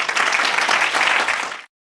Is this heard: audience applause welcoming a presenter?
yes